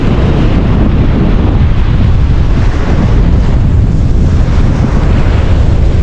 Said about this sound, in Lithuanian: Artinasi nemaža audra